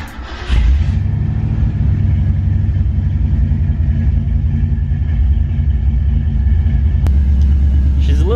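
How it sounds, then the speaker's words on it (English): A classic Ford Mustang engine cold-starts with the choke on, cranking briefly before catching and settling into a loud, steady, lumpy idle rumble that runs on close by, with a brief sharp click near the end. "Let's start up the car."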